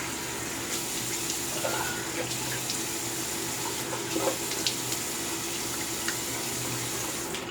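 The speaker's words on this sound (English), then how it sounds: "Now some cold water." Cold water runs from a sink tap in a steady, continuous splashing stream for several seconds, fairly close, with no talking.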